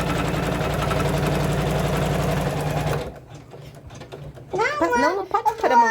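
A domestic embroidery machine finishes stitching on fabric, its rapid mechanical chatter running loud and close for about three seconds before it stops, leaving a low hum as a voice and other speech follow.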